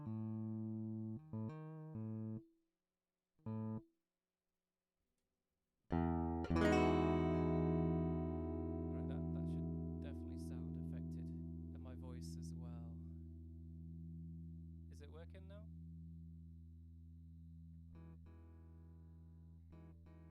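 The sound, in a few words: guitar played with delay effect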